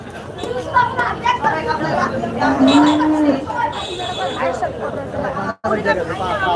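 Cattle moo at a busy cattle market in Kochukhet bazaar, one drawn-out low moo standing out among steady crowd chatter and voices talking nearby.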